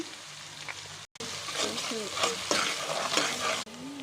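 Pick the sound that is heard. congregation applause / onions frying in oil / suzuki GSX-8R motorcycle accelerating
onions frying in oil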